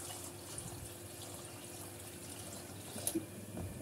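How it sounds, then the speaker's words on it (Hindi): Water is drained off washed lentils in a home kitchen, giving a faint, steady trickling wash with a few small splashes and drips near the end. "इसका पानी निकाल दूंगी"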